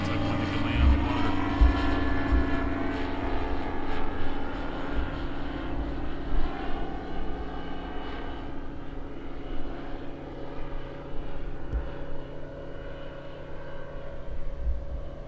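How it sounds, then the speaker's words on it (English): Steady propeller drone from a floatplane passing overhead on an overcast day, its engine tones holding loud and even, with a few faint low knocks and no talk. "Got a plane going by here."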